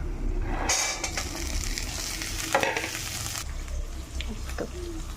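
Boiled chickpeas frying with black cumin in a pan, a steady close sizzle with scraping stirs and spatula knocks against the metal throughout.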